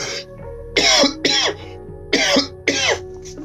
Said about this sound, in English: I gotta cough that one out.